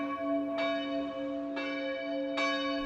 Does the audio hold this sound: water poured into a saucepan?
no